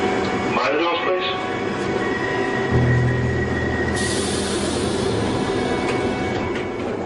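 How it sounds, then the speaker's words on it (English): A London Underground train rumbles and rolls away from King's Cross with rising mechanical hum and a high whine, carriages rattling steadily while voices talk faintly in the background. "Minutes after Rachel's train left King's Cross Station"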